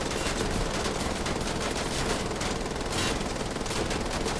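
Sustained rapid automatic gunfire in Wolfenstein: The Old Blood, a dense unbroken stream of shots over about four seconds with occasional louder bursts, moderately loud with no talk.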